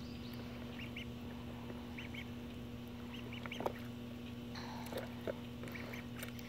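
Soft, high peeping quacks from several Magpie ducklings in water, scattered and intermittent over a steady low hum.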